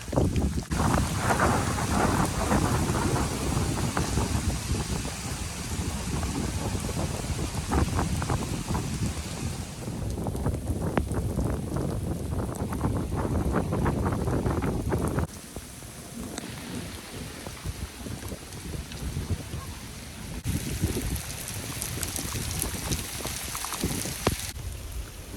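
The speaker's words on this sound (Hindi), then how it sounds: "और बादल बहुत ही ज़ोर से गरज रहे हैं।" Heavy rain pours down steadily during a thunderstorm, a dense continuous hiss of drops on surfaces, with deep rolling thunder rumbling underneath and a lighter stretch of rain toward the end.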